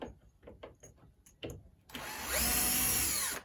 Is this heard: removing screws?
yes